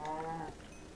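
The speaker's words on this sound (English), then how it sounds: "Oh, there's a sheep. Hello, sheep." A sheep in Minecraft gives a single short, wavering bleat, close and clear, fading into quiet background ambience.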